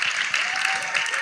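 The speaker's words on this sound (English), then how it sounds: "Can we have a round of applause for our speakers today?" A conference audience applauds its speakers, dense clapping filling the room steadily throughout the short moment.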